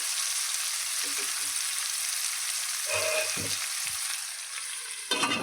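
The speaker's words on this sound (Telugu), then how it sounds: "స్టవ్ని ఇప్పుడు మీడియం ఫ్లేమ్లో పెట్టేసుకొని టమాటాలు కాస్త మగ్గనివ్వాలండి." Chopped tomatoes cook in a pan on a medium flame with a steady hissing sizzle, a few low knocks and clunks partway through, and a brief burst of noise at the end.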